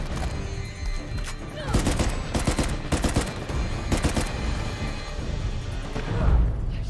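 Rapid bursts of gunfire in Uncharted Legacy of Thieves crack out in clustered volleys, loud and close, with scattered single shots between them and a heavy thud near the end.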